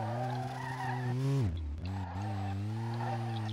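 A Toyota Altezza drifts in the racing game Street Legal Racing, its engine droning steadily as tires skid and squeal, the pitch dipping sharply midway before the motor pulls back up.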